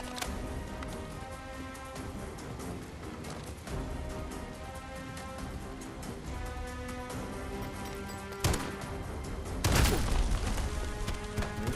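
Explosions in the video game Bright Memory: Infinite, set over a steady bed of game music and noise, with a sharp blast around the middle and a louder, broader burst near the end.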